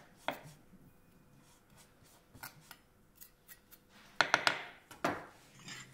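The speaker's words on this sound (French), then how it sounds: "Faire un joli ciselage avec le couteau" A kitchen knife chops finely through onion and shallot on a cutting board while preparing spaghetti with cockles, with quick close taps in scattered bursts and a tight cluster of sharp cuts near the end.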